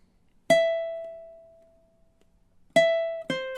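A ukulele plays a measure of a song in time: a single plucked note rings out and slowly decays, followed after a pause by two more plucks in quick succession, clean and close without talk.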